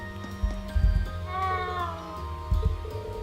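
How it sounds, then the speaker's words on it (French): A cat in the Trails of Cold Steel video game gives a drawn-out, wavering meow, loud and close, with a few soft thumps of game sound around it. "C'est juste le chat qui est là"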